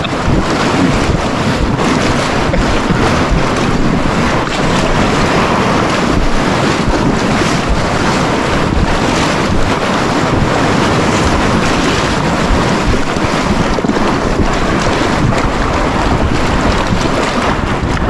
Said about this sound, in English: we hit the big waves.